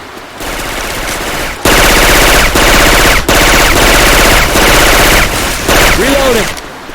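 Syphon Filter weapon sound effects replace the guns in the co-op shooter Left 4 Dead 2, firing in loud sustained bursts of rapid automatic gunfire with a few short breaks, amid game noise and a brief rising tone near the end.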